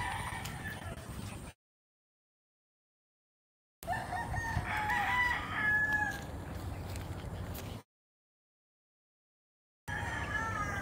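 National banded gamecock stags crow on a farm in short, moderately loud bursts broken by silent gaps, with other fowl and faint background sounds.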